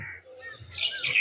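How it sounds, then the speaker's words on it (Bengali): Birds call on a cold, misty early morning outdoors from a rooftop: faint, thin chirps and tweets, with a brighter burst of several overlapping calls near the end, over a quiet background. "তোমরা হয়তো শুনতে পাচ্ছ পাখির আওয়াজগুলো।"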